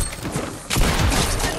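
A burst of rapid gunfire in the Fortnite video game, a dense, loud crackle that swells after a brief quieter start and holds steady to the end.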